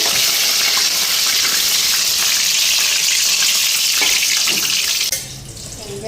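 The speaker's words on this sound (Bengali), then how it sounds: "এদিকে আরও ভাজা হইতেছে" Chili fritters (lanka bora) frying in hot oil, a loud, dense, continuous hiss heard up close that suddenly drops away near the end, leaving quieter sizzling and faint clatter.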